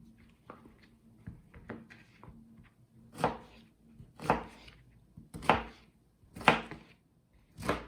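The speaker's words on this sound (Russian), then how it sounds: "Нарезаю точно таким же способом следующий кабачок." Knife chopping zucchini on a cutting board in a home kitchen: light scattered taps at first, then several sharper, louder chops at a steady, unhurried pace, close and clear.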